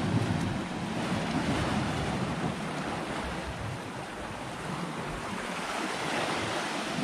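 Ocean surf at the Negril cliffs in Jamaica, a steady broad wash of waves with wind buffeting the microphone, continuous and fairly loud with no talk.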